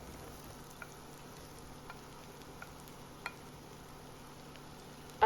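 Onions and apples frying in butter in a pan, a steady soft sizzle with a few faint clicks and taps of a utensil, fairly quiet and close, no talking.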